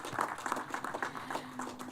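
An audience at a stadium naming ceremony for the East Stand at Windsor Park Sports Stadium applauds, a brief, fairly faint patter of many hands clapping with a distant, roomy quality.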